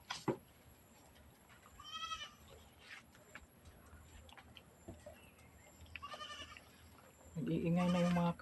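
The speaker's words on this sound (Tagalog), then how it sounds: "Nag-iingay na yung mga kambing kasi anong oras na ba?" Goats bleat repeatedly on a farm, several quavering calls spread through the clip with the last one loud and close, over faint background noise and occasional voices.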